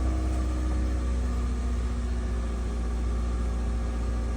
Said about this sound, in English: And then if you turn the car on,